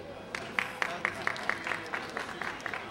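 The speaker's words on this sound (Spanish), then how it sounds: "Primero, otro aplauso a la modelo." At a supermarket event, a small audience claps for a model in a quiet, sparse patter with about a dozen distinct, evenly spaced claps, fairly distant and soft.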